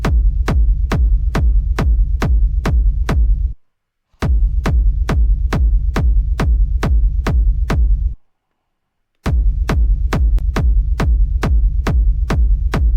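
Distorted hard techno kick, the second kick from a sample pack, played dry without effects: loud, booming thumps in a steady driving pulse, split into three runs by two short silences.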